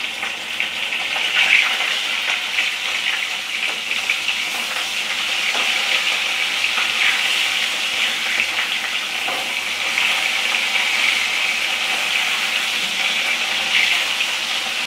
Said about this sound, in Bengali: তেল গরম হয়ে গেছে, গ্যাসের ফ্লেমটাকে লো করে দিয়েছি। মাছগুলো ছেড়ে দিলাম।